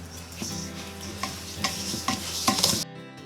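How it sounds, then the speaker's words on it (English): Butter and sugar creamed together for eggless cookies, with a run of rhythmic whisking strokes that grow a little louder and faster, close by, before cutting off abruptly into silence. "Step 1 will be whisking the butter and the sugar"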